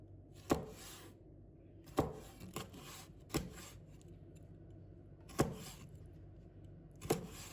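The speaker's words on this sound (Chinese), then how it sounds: "再把带鱼切成3厘米的小段" Knife chopping a hairtail fish into short pieces on a chopping board: five or six firm, separate thuds spaced about a second apart, close and clear over a quiet room.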